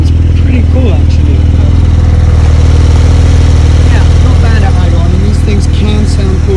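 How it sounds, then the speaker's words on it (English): A stock Porsche 992 Turbo S idling in Sport Plus mode, a loud, steady low engine rumble with a constant throb, close up, while a person talks over it. "I'm going to put it in Sport Plus mode so that you can hear what it's like at its loudest idle"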